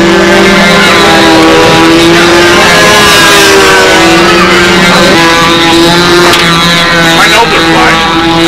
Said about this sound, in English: We can listen to these engines run and see Rich Jacobo and buff out his decals